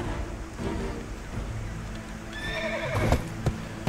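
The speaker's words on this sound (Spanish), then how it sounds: "Creo que es el relincho." A horse in the online video game Black Desert Online gives a loud, close whinny that rises near the end, over a steady game background with hoof clip-clops.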